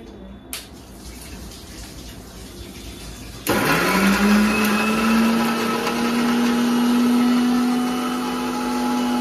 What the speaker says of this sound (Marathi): जे आपण मिरची आणि आलं होतं ते मिक्सरला लावून घेऊया.